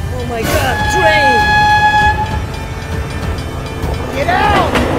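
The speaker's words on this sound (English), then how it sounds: "Oh my god, train!" In a vehicle crash video game, a train sounds its horn in long blaring tones while it rumbles past. Excited voices shout over the passing train.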